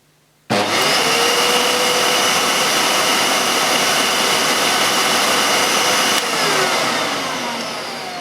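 A Hoover PurePower U3430 upright vacuum cleaner switches on with a sudden loud roar and runs steadily, its motor pitch shifting slightly partway through.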